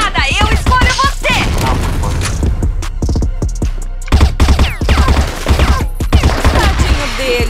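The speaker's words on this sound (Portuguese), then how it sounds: "Granada, eu escolho você!" Loud gunfire and a grenade blast in the video game CrossFire, dense rapid shots and booming hits at close range under excited player talk.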